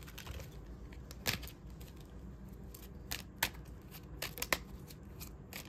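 Faint, scattered papery snaps and riffles of tarot cards being shuffled, quiet and irregular over a soft background hiss.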